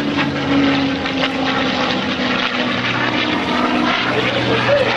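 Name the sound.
T-51 propeller warbird aircraft flying low at airshow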